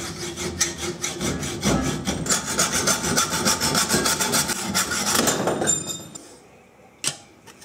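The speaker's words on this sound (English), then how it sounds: "My saw blade won't even cut through the chrome on this pipe" A hand saw rasping back and forth against the chrome exhaust pipe of a Honda Trail 90 motorcycle, steady rapid strokes for about six seconds, then quiet and a single sharp knock.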